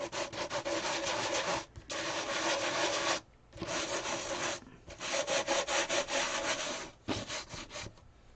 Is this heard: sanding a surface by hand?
yes